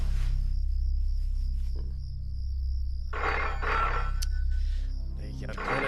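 A telephone rings with a steady electronic tone in a Hindi action-romance film scene, held under a low background hum while louder noisy bursts and voice-like sounds cut in during the second half.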